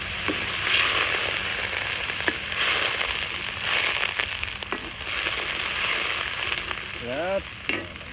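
Ginger garlic paste frying in a pan with bay leaves, a steady loud sizzle and crackle throughout, punctuated by occasional stirring scrapes and spoon clinks.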